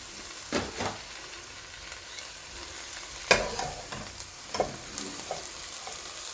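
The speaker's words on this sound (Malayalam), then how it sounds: "ഇത് നന്നായി ഇളക്കി ചേർത്തെടുക്കുക. നന്നായി ഇളക്കി ചേർക്കണം." Beef frying with onions in a pan, stirred with a utensil; a steady sizzle runs throughout, with several sharp scraping stir strokes rising above it, no voices.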